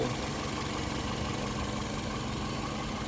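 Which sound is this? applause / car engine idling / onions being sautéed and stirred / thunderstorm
car engine idling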